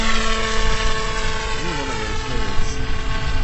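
A homemade T-tail ultralight plane's engine runs at full power in straight, level flight, a loud, steady propeller drone with a shifting buzz that holds from start to finish; no one speaks.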